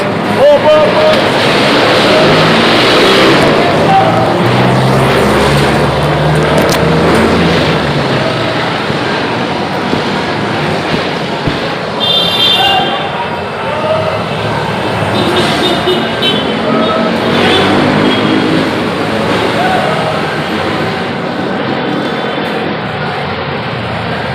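Busy street traffic in the Philippines rolls past as a dense, steady roar of engines and road noise, close and loud for about 24 seconds, with scattered horns and a voice talking over it.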